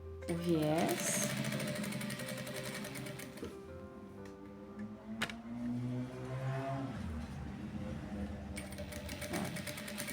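A sewing machine stitches bias binding onto fabric for a small car trash bag, its steady motor hum running slowly under continuous talking, with a brief pause midway before the stitching resumes.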